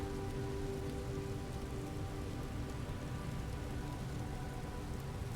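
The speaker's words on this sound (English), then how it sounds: "It's raining." Rain falls steadily across an outdoor scene in the game Elder Scrolls Online, a soft even hiss of drops with a faint low rumble beneath and no talking.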